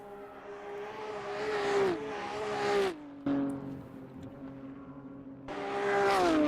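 BMW race cars lapping in an NLS endurance race, their engines droning and shifting pitch as they rev, brake and accelerate, with a brief cut-out midway and another car swelling up loudly near the end.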